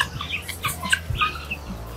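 White guinea fowls on a small city farm give sharp, scratchy calls in quick bursts, fairly close and loud, with no talk.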